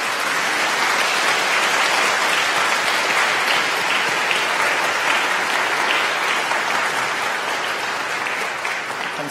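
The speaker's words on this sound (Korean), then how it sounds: "함께 일어나 주시면 환영의 박수로 맞이하겠습니다" A church congregation in Seoul applauds steadily during a Eucharist service to welcome visiting guests, a dense, sustained wash of clapping from many hands that fills the sanctuary throughout.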